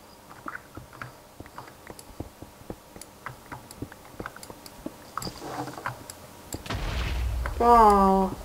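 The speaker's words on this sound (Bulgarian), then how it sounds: "Още една експлозия чух." In a Minecraft Voltz modpack survival game, a deep, booming explosion rumbles and swells for about two seconds after a long run of quick, dry keyboard and mouse clicks.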